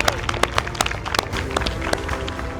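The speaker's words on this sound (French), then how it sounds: "On applaudit bien fort, merci." Crowd applause after a fight at a YFC combat event, with sharp scattered claps over a dense noisy roar, moderately loud and steady.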